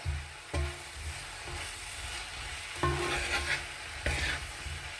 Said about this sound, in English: Give it a good toss again.